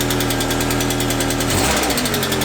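VW Golf engine running with unprimed hydraulic lifters, a loud, fast, even ticking over a steady idle drone that shifts slightly toward the end.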